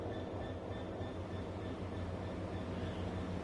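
A diesel locomotive in Train Sim World 6, a training centre loco, rumbling steadily with a low engine drone and faint rail noise, continuous and fairly quiet.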